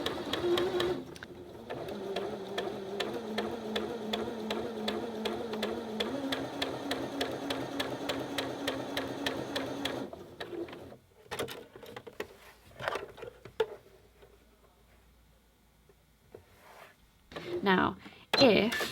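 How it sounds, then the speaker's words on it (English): A sewing machine stitches fabric along a straight line, a fast, steady mechanical whir and patter running for about ten seconds, then stopping into quieter handling clicks and a brief restart near the end. "when I'm sewing my smooth lines, I'm always looking to see if my fabric edge is lined up against my marker"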